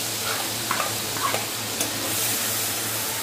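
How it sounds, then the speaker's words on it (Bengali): Mustard and poppy seed paste frying in hot oil in a pan gives a continuous sizzle, with a few sharp clicks and scrapes from stirring. "এবার আমি সর্ষে পোস্ত বানাতে দিয়ে দিলাম তেলের মধ্যে।"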